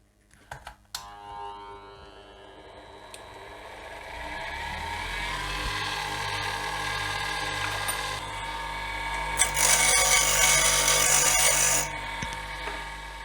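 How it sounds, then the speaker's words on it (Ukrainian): A bench grinder is switched on and spins up, its whine rising and settling into a steady loud running hum, with a brief harsher burst near the end. "Ось таке точило в мене є. Вмикаємо."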